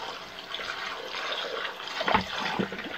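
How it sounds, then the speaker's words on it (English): Water running and splashing as a shaving bowl is rinsed out after a wet shave, a steady near trickle with a brief louder splash toward the end. "Let's rinse out the bowl."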